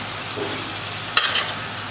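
Boiled jackfruit in a pan for Chettinad-style gravy gives a faint, brief stir and sizzle, with a couple of soft scraping bursts midway through an otherwise quiet moment.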